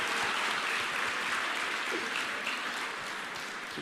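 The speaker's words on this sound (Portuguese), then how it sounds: "Uma salva de palmas para ele." A crowd at a business seminar breaks into steady, dense applause that fills the whole moment at an even, loud level with no voices over it.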